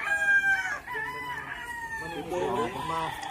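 A gamefowl rooster at a game farm crows in a long harmonic call, followed by a second stretched crow, close and loud over a background of voices.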